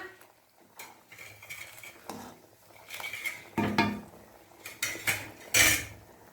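Rice poured into a pot of boiling water and a lid set on top while making Tamil puli sundal, with scattered clinks and clatters of metal cookware, several sharper knocks near the end, close and fairly quiet.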